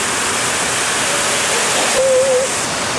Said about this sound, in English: But there is this sweet ass shower thing.